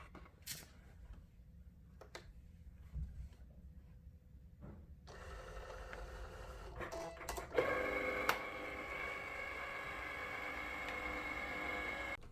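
A Cricut cutting machine cuts vinyl on a mat, starting after some quiet handling clicks with a steady mechanical whirring and faint buzzing of the moving carriage, close and fairly soft.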